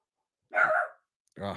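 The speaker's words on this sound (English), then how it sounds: "I'm gonna get my dog to stop barking." A pet dog gives a loud, close bark, a single sharp woof followed by a second shorter bark after a pause, in an indoor home setting.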